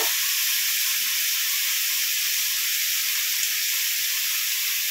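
Garlic paste sizzles steadily in hot oil over lightly fried onion paste in a pan, a loud, close, unbroken hiss with no voices.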